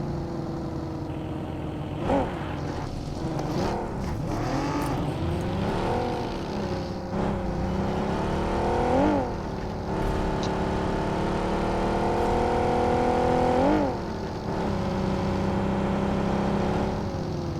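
In PUBG Mobile, a car engine drones steadily while driving, rising and falling in pitch as the gears shift and the vehicle accelerates, close and continuous with no talk over it.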